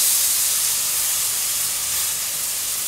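A plant-based Whopper patty sizzles in a pan, a steady bright hiss filling the whole moment at close range, loud and unbroken with no voices.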